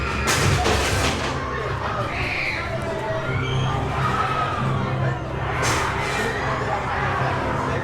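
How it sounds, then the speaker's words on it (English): Distant screams and crowd shouts carry across the grounds of a Halloween haunted house event at Howl-O-Scream in Williamsburg, under a steady crowd din with occasional thumps. "I can hear people screaming in the distance"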